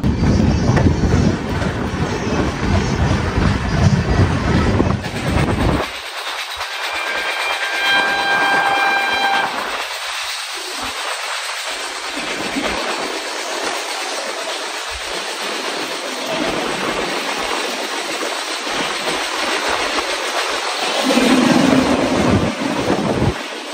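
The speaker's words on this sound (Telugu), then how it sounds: "భువనేశ్వర్ టు బెంగళూరు ప్రశాంత్ ఎక్స్ప్రెస్ వెళ్తుంది అనమాట" The Prashant Express, running Bhubaneswar to Bengaluru, at a station, loud and close: heavy rumbling wagons and rail clatter throughout, with a sustained horn sounding partway through and the roar building again near the end.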